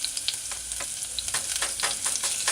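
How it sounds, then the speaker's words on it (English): Chopped onions and ginger sizzle and crackle in a pan over medium-low heat for cabbage stew, a close, steady frying hiss with small popping bursts. "Add your chopped onions, a piece of ginger, and saute."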